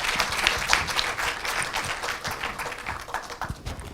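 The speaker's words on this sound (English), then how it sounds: "A big round of applause for all of them." Audience applause at a healthcare engineering and geospatial conference session, a steady mass of clapping from a sizable crowd that holds throughout, loud and fairly close.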